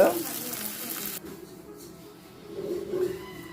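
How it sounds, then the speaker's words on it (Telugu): Chopped onions and green chillies frying in a pan for a prawn curry, a soft hiss that drops partway through and swells again toward the end, with no talk. "ఉల్లిపాయ మొక్కలు పచ్చిమిరపకాయ మొక్కలో వేపేసుకోవాలి ఫస్ట్"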